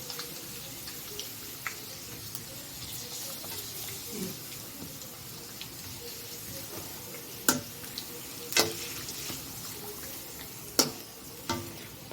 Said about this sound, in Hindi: आमे सेतिरे पांपड़टा पकेइकी भाजी दबा